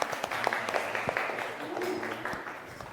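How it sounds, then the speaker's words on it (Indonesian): Scattered clapping from a small group, steady but not loud, filling the room for a few seconds with some voices mixed in. "tepuk tangan untuk Ibni"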